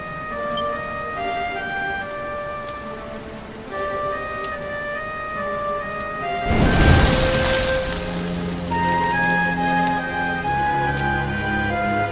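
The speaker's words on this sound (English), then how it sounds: "Looks like the rain's dying down." Steady rain pours in Dragon Quest XI, a constant hiss under a layered orchestral game score, swelling briefly into a louder burst of rushing water before settling back to a soft wash.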